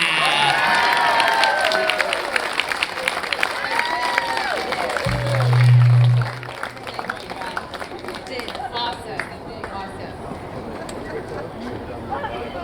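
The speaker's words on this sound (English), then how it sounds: "I know I said one more round of applause because Kodi was up here" An event audience cheers and applauds, dense clapping and crowd noise that swell loudly through the first half, then settle into thinner, scattered applause.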